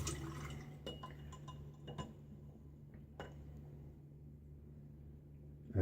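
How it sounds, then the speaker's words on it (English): Water being added to a shaving lather bowl: a few faint drips and soft trickles with light clinks against the bowl, quiet and close. "go ahead and start adding some water."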